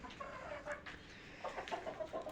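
Chickens kept on a city house rooftop give soft, intermittent clucks at moderate distance, with a brief burst of calls near the end over a steady background.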